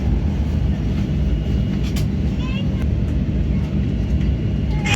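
A passenger airliner taxis before take-off, a loud steady engine rumble and cabin roar filling the whole stretch, heard from inside the aircraft with faint chirps above it.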